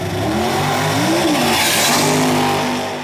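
A no-prep drag race car, one of a field that includes a twin-turbo LS entry, launches hard and spins its tyres. A loud, continuous engine roar rises and wavers in pitch for the whole stretch.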